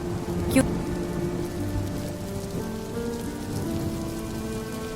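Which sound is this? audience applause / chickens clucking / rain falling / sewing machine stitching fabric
rain falling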